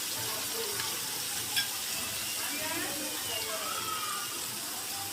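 Chili powder and turmeric fry and get stirred in a pan for a hilsa and taro dish, making a steady, even sizzle with one brief metallic clink of the spoon.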